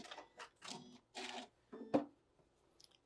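Short, fairly quiet sewing machine bursts while back tacking the seam of a yin yang bag, a few stop-start runs of stitching ending in a sharp click, with no talking.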